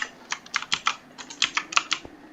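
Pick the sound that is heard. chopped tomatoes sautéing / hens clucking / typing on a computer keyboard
typing on a computer keyboard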